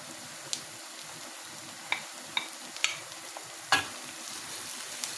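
Meat being stirred into fried onions in a pan for Azerbaijani macaroni khingal, with a faint steady sizzle and a few sharp utensil clinks and scrapes close by.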